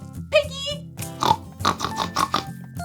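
A voice playfully imitates a pig's oink, a series of short nasal grunting snorts close up, mixed with playful talk to children about toy farm animals.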